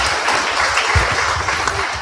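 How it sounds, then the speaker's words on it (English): An audience at the DWU 30th Festival applauds, a short burst of brisk clapping heard close and fairly loud with no one speaking. "Let's give him a round of applause."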